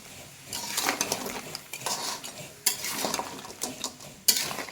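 Crab pieces coated with turmeric and salt fry in a pan, with a steady sizzle broken by repeated scraping and clattering strokes of a utensil stirring them.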